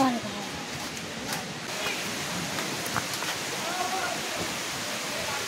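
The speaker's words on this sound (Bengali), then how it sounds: "প্রচণ্ড জোরে বৃষ্টি এসেছে" Heavy rain pours through a hillside forest near a mountain waterfall, a steady, dense hiss of falling water that fills the scene evenly from start to finish with no clear voices.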